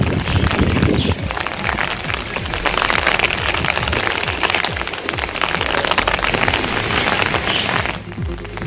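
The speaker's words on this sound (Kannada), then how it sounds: "ಹಾಸನ ಜಿಲ್ಲೆಯಲ್ಲಿ ಮಳೆಯ ಅಬ್ಬರ ಮುಂದುವರೆದಿದೆ." Heavy rain in Hassan district, Karnataka, pours down steadily as a dense, loud hiss of drops on surfaces, with some wind; it eases abruptly near the end.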